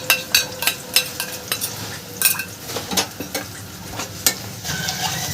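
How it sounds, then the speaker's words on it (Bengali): Spice paste stir-fried with onion and garlic in a pan for dhaba-style aloo bhuna, a steady close sizzle broken by repeated scraping strokes of a spoon against the pan, with no talking. "মশলাটাকে এবার ভালোভাবে কষিয়ে দেবো"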